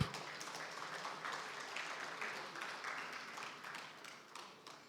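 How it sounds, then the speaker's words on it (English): An audience at an agriculture conference session claps together, a sustained patter of many hands fairly far off that starts at once and slowly fades toward the end. "If we want to clap, please let us clap."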